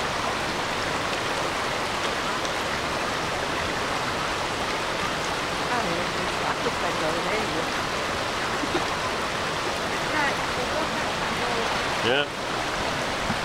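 A large volume of water, likely pump-driven through an artificial waterway at Walt Disney World, pours in a dense continuous rushing wash, close and loud throughout, with a brief voice near the end.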